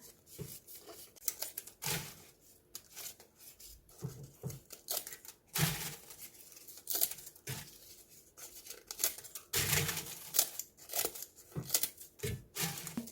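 Scissors snip pre-cleaned dried pollack skin into small bite-size pieces, a run of close, crisp cuts and crinkly tearing sounds repeating unevenly with brief pauses between them.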